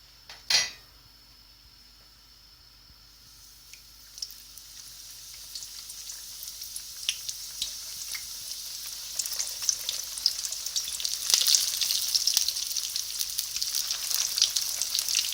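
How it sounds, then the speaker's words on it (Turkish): Çiğ börek pastries drop into hot oil with a sharp splash, then a steady frying hiss builds and grows louder and denser over the following seconds, with scattered crackles and pops. "Şimdi bunu alacağım ve böreklerini atacağım."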